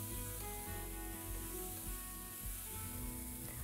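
Strips of shiitake mushroom fry in a pan of hot peanut oil, giving an even, continuous sizzle at a soft, steady level with no talking over it.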